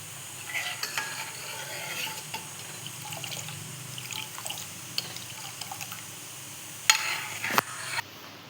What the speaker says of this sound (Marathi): इथे आपलं दूध उकळतं एक साईडला, म्हणजे आपण त्याला हे करून घेतोय, आटून घेतोय.